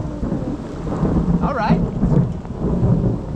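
Thunder rumbles heavily through a thunderstorm on a remote island beach, a loud sustained roll over steady rain, with a short spoken word partway through.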